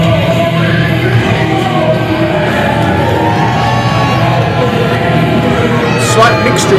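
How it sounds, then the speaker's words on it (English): A pro wrestling arena crowd at a Genesis Professional Wrestling championship match, a loud, continuous wash of cheers, yells and applause, with commentary voices mixed in. "Slight mixture of applause and cheers there for the champion."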